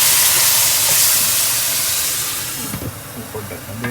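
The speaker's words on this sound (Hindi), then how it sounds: "जब आप देखते हैं कि थोड़ा सा अगर नीचे से इसको खतरा है किसी किस्म का नीचे लग ना जाए तो फिर आप थोड़ा सा पानी डाल देते हैं" Water hits a hot pan of masala for bhindi gosht, giving a loud, broadband sizzling hiss of steam that fades over a few seconds, with faint clinks from the pan toward the end.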